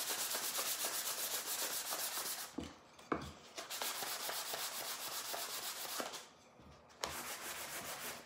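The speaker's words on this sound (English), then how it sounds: "I'm gonna switch to what I have on hand, which is 320, which is pretty darn fine, okay? And I just have it wrapped around one of these sanding blocks." Fine 320-grit sandpaper wrapped on a sanding block rubs over wood by hand, a close, steady scratchy hiss of back-and-forth strokes broken by two brief pauses.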